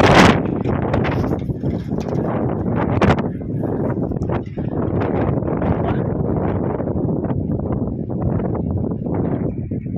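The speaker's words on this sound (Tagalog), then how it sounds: "Lakas ng hangin ngayon, mga kabayani, dito sandstorm na sandstorm" Strong, steady wind of a sandstorm in Libya roars and buffets across the whole stretch, a dense rushing blast with gusty surges and no clear pauses.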